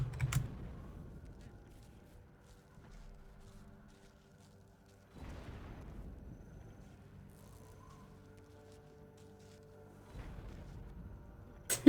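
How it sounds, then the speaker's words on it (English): A cat walking across a computer keyboard during a Guild Wars 2 boss fight, producing scattered clusters of key clacks separated by quiet stretches, close and fairly soft. "Please don't step on my keyboard."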